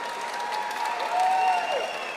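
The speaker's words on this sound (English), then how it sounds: "round of applause for Rajal Hussain" Applause for fighter Rajal Hussain after an MMA bout at MMAC 1, a steady mid-level wash of clapping from an arena crowd that swells slightly midway, with faint tonal background noise.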